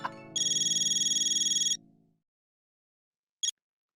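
A mobile phone ringtone plays loud and close as a pulsing electronic melody for about a second and a half, then fades out, with one short beep following after a pause.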